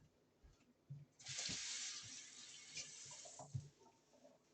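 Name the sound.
water running from a tap while washing hands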